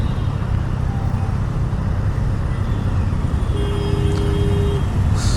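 Heavy road traffic in Hyderabad, heard from a Triumph Daytona 660 motorcycle, gives a loud, continuous roar of engines and tyres, with a sustained horn tone partway through.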